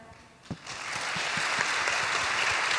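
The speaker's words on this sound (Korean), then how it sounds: "박수 많이 쳐주시기 바랍니다" Audience applause at a Christian youth talk show on dating and marriage, starting after a sharp tap and building into a steady, moderately distant wash of clapping hands that continues to the end.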